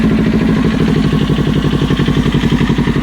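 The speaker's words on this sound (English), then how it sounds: "when I turn the throttle, you hear it sucking in air" Kawasaki Ninja 400 motorcycle with a Norton ECU flash, engine running close up and loud with a steady pulsing throb and a rough, airy intake note as the throttle is worked; no talking.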